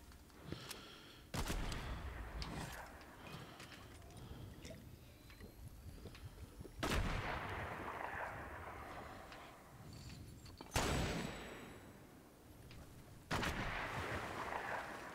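Video game gunfire: four sharp, loud shots spaced several seconds apart, each followed by a decaying rushing tail, with quieter ambient game noise between them.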